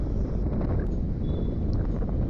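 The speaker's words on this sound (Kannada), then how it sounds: "ಫುಲ್ ತಣ್ಣಗಿದೆ ಗಾಳಿ." Strong cold wind buffets and roars across the microphone near a bridge over the Kaveri river, a constant heavy rush with no pauses.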